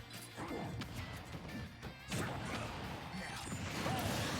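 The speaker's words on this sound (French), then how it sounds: "Donc on envoie les grenades, la mine." Grenades and a mine set by Snake explode in a Super Smash Bros tournament match against Incineroar, giving repeated sharp crashing blasts over a dense bed of game sound effects.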